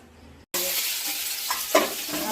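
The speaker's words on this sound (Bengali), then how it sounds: "আলুটা হালকা ভেজে নিই" Potatoes sizzle in hot oil in a pan for a vegetarian potato and cauliflower curry, a sudden loud steady crackle after a brief silence, with a couple of stirring scrapes near the end.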